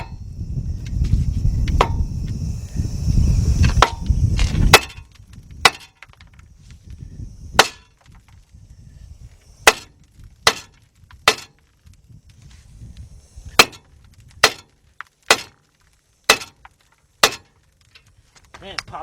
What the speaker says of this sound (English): You want to hit right there on the spindle only.